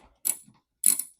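A Gator Grip universal socket works loose a tight bolt, heard as two sharp, close mechanical ratcheting bursts separated by a short pause.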